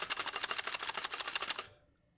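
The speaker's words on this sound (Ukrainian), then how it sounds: "то чутно характерне клацання цього механізму тактильного" Rapid, even clicking of a Vinga KBGM 100 mechanical keyboard with blue tactile switches, keys pressed in quick succession, crisp and close, stopping abruptly after about a second and a half.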